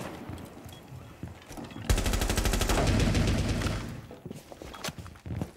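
A sustained burst of rapid automatic gunfire in a video game erupts loudly for about two seconds, followed by scattered softer shots and clicks.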